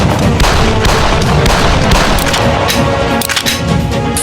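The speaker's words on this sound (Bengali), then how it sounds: "এদিক দিয়ে আমি ফায়ারিং করছি" Rapid gunfire sound effects in a staged army battle scene against terrorists, a dense, loud stream of booming shots and thuds that runs continuously with no gaps and no talking.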